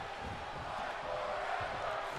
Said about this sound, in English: Crowd with Fight Forever chants.